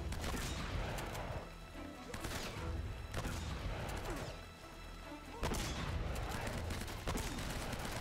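Gunfire in the video game Uncharted, dense bursts of shots and impacts with crashing hits, loud and continuous throughout.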